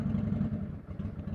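Bobber motorcycle engine warming up, a close, low, lumpy idle rumbling steadily with a slightly uneven pulse.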